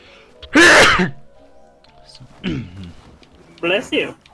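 A single sharp sneeze bursts out near the mic during a video game session, followed by a couple of quieter vocal sounds.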